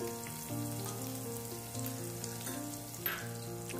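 A pinch of asafoetida frying in hot oil for a dry spiny gourd (kantola) sabzi, giving a steady close sizzle with a brief louder crackle near the end and no talking.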